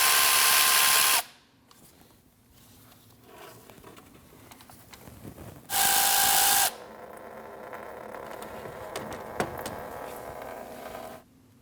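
A power tool spins out 10mm thermostat housing bolts on a 2012-2016 Honda CR-V 2.4L four-cylinder in two loud, short whirring bursts separated by quieter workshop background.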